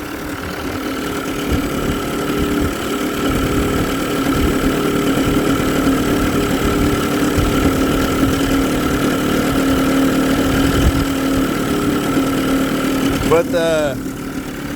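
A 1993 Evinrude 30hp short-shaft two-stroke outboard idles steadily and loudly, running on the hot side on the thermostat side, with a close, even drone throughout and someone speaking briefly over it.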